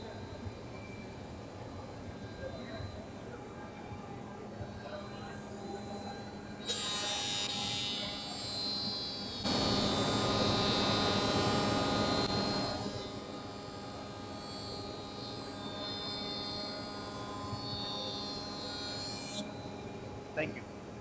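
A Felder jointer cuts a board in a workshop: a steady machine hum rises into a louder, harsher planing roar for several seconds, then settles back to idle, with voices talking.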